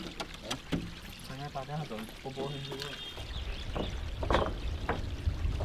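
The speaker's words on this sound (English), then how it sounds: "After loads of splashing and flopping around, our fish is all packed up" River carp splashing and flopping in water at a riverside fish-buying spot, with wet slaps and sloshing that build louder toward the end while people talk over the first half.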